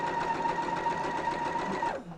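A sewing machine sews quilt blocks in a rapid, even run of stitching close by, a bright whirring hum that winds down and stops after about two seconds.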